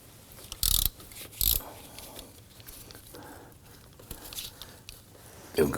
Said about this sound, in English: I'm going to go ahead and use my regular ratchet with this one to break this one free.